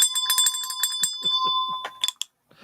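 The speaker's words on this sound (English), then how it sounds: "ringy-ding that bell." A bright metallic bell sound effect rings in a rapid series of clear dings, then a couple of final strikes before trailing into silence, loud and close.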